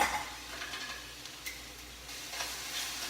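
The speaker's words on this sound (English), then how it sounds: "You can hear it sizzling away" Gentle continuous sizzling of hijiki seaweed sautéing in a pan with light stirring scrapes, close and moderately quiet, no talking.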